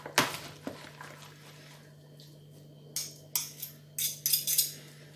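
Utensils clink and scrape against a bowl while a salad with strong cheese gets tossed, a few sharp taps then clusters of quick rattling knocks over a faint steady hum.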